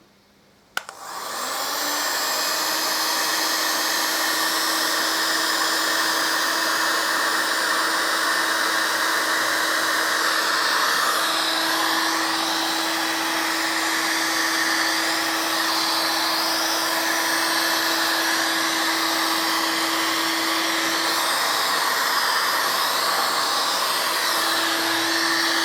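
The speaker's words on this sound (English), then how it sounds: "I'm just going to heat shrink all this up now" A heat gun blows steadily for about 25 seconds while shrinking heat shrink tubing onto Harley-Davidson Deuce motorcycle wiring, starting abruptly with a click and holding a loud, even whooshing hum throughout.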